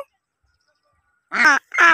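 A short silence gives way to two loud, close nasal quacks from a sick duck separated from its flock, one right after the other.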